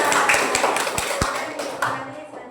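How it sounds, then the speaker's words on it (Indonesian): Classroom applause for a student group, a steady wash of many hands clapping together over a couple of seconds, close and fairly loud, tapering off with a few voices mixed in. "Tepuk tangan lagi."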